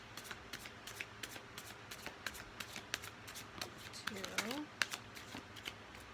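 Oracle cards are shuffled and dealt by hand, a close run of rapid, evenly spaced riffling flicks and snaps, while a voice speaks quietly over them.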